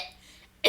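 A single short, sharp cough bursts out at the end after a moment of near silence, close and abrupt.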